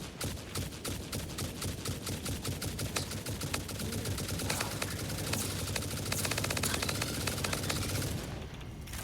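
Rapid rifle gunfire in the Satisfactory video game, a dense string of close, loud shots firing almost continuously before a brief drop near the end.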